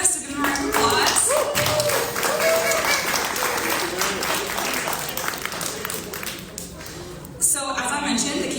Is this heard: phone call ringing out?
no